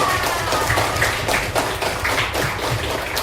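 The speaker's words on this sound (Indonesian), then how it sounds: "tepuk tangan untuk teman-teman saya" A classroom of primary school pupils claps for their classmates during a fifth-grade mathematics lesson, with dense, steady clapping from many hands filling the room throughout.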